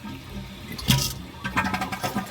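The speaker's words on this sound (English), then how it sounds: "Toilet flushes." A Kohler toilet with a newly fitted gasket flushes with a brief rush of water followed by a gurgling refill, heard close up.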